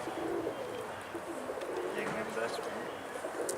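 Soft chirps and cooing from a pet budgerigar in a noisy indoor space, with people talking over it throughout.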